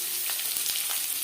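Garlic sizzling in hot refined oil, a steady close frying hiss with a few faint pops, no voices.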